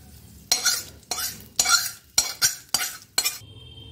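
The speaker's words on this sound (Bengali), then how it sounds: "ডালের উপরে এই তড়কাটা দিয়ে দিলাম" Spoonfuls of tadka tempering are added to dal and stirred, giving six sharp metallic scrapes and clinks against the pot at an uneven rhythm, close and clear, with no talking.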